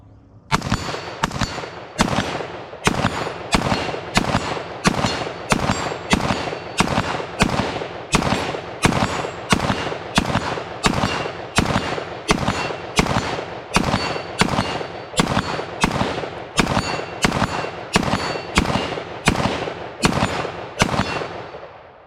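An IWI Tavor X95 bullpup rifle fires steel-case ammunition through a full magazine in a long string of loud, sharp shots. The shots come at a steady, deliberate semi-automatic pace, with brief gaps between them.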